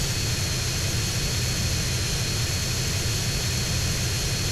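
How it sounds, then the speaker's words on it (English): An airplane takes off in a pirated GTA video game, its jet engine a loud, unbroken roar of wide hiss over deep rumble that holds steady throughout. "That's how planes take off."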